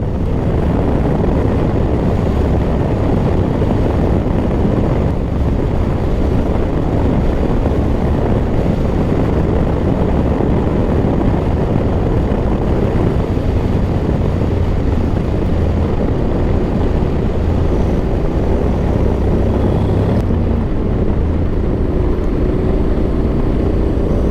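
A 2024 Honda X-ADV 750 DCT motor scooter rides along a road. Its engine drone is steady and loud, mixed with strong wind rush at the microphone throughout, and no one speaks.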